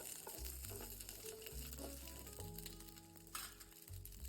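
Drumstick pieces fry in a little oil in a pan while sambar is being prepared, a soft steady sizzle with occasional stirring scrapes, fairly quiet and with no talking.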